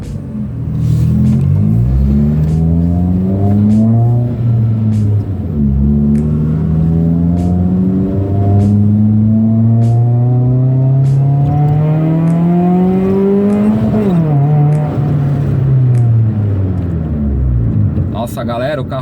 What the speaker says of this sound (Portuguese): vou dar umas aceleradinhas pra vocês aí de boa, sem fazer arruaça, pra mostrar aí como é que ficou o ronquinho